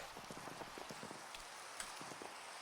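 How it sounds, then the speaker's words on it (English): Soft, steady rain falling in Minecraft while exploring with the Botania mod, a faint hiss with light pattering taps throughout, no voices. "And of course, it rains."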